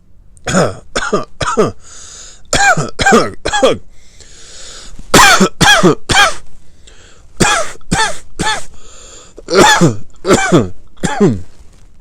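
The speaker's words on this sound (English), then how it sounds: "How long have you had that cough?" Loud, harsh coughing close by, coming in repeated fits of three or four hacking coughs separated by short pauses.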